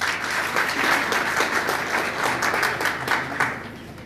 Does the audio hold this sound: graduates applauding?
yes